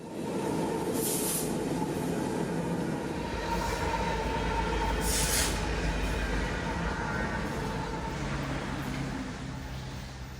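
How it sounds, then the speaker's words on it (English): A long southbound grain freight train of 100 loads, pulled by an SD70ACe and two ES44AC diesel locomotives, rumbles past in rain with steady low engine drone and continuous rolling wheel noise, loud and close throughout. "an SD70 Ace sandwiched by 2 ES44 ACs in trail behind 100 loads of southbound grain"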